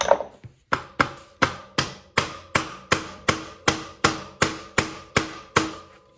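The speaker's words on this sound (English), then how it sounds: "you can either use a rubber mallet like I've got here" A steady run of about fifteen solid, dull strikes from a rubber mallet on a Honda CRF250X dirt bike, evenly spaced and close, each thud decaying quickly before the next.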